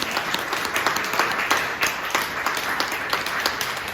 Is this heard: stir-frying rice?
no